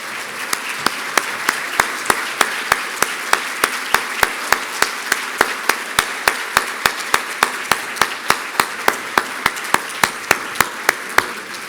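An awards ceremony audience applauds in steady unison, sharp claps landing in a fast regular beat for about twelve seconds over a continuous wash of clapping.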